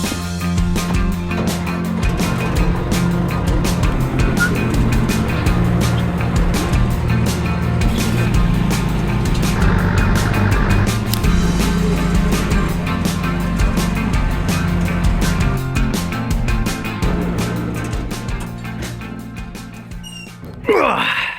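A backhoe drives up into wooded land on an off-grid campground property, its engine droning loud and continuous with clanking rattles over about twenty seconds, no talking.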